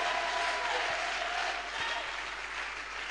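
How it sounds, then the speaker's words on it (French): Congregation at a church service clapping for Jesus, a dense, steady roar of many hands applauding together, loud and continuous throughout. "Clap your hand for Jesus."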